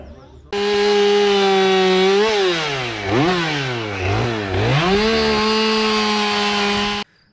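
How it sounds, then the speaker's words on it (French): A loud chainsaw carving a wood sculpture runs steadily, its engine pitch dipping and rising as the blade bites into wood, then settling back to a constant high whine. "Ici on a la sculpture à la tronçonneuse."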